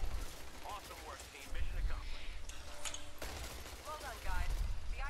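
Scattered gunfire crackles in a Titanfall match, fairly distant volleys and bursts under game noise while players talk over it.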